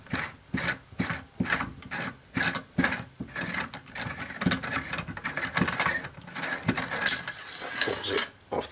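The outer barrel of an Ares Striker airsoft sniper rifle is turned anti-clockwise and unthreaded, giving a run of close, rhythmic ratcheting clicks that blur into continuous scraping rasp.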